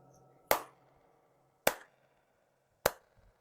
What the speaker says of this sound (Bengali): এটা পরে তালি দিবেন